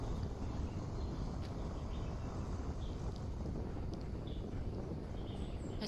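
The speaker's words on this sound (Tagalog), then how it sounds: "pinifeel lang namin yung breeze, simoy ng hangin" Steady breeze blowing across an outdoor campsite near Sirawan, Davao, a constant broadband rush of wind buffeting the microphone without pause, with faint distant chirps above it.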